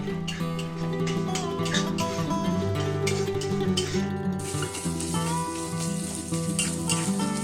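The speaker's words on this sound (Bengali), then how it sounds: "এবার কিছুটা কোরানো নারকেল দিয়ে ভালো করে ভেজে নিতে হবে 1 থেকে 2 মিনিট।" Spices and grated coconut fry in a pan for a Bengali-style moong dal, a steady sizzle with occasional stirring that runs throughout under louder background music.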